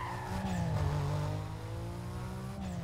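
A car in Need for Speed Most Wanted driving fast, its engine holding a steady, rising and falling drone with shifting pitch, loud and continuous throughout with no talking over it.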